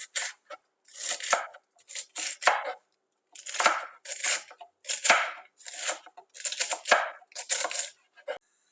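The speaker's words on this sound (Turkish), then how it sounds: "Sapları biraz daha ufak yapıyoruz sert oldukları için." A knife chops chard stalks crisply on a cutting board in quick bursts of several strokes, with brief pauses between, close and clear.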